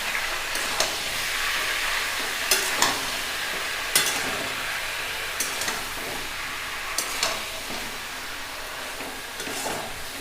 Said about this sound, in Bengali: এবার আমরা এটাকে ভালো করে ভেজে নিব।